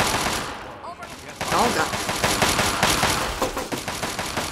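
Rapid automatic gunfire from the video game Fallout 3, a dense sustained rattle of shots that starts after a brief lull and continues loud and steady, with a man's short exclamation early on.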